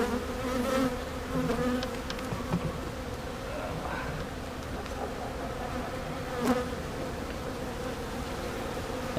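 A swarm of honeybees buzzing in a swarm trap, a dense, continuous droning hum, close and steady, with individual bees occasionally buzzing louder nearby.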